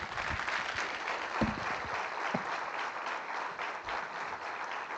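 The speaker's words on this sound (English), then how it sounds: "Ladies and gentlemen, a huge round of applause." Dense audience applause at a defence conference rolls on steadily for the whole stretch, a broad wash of many hands clapping with a few low thumps beneath.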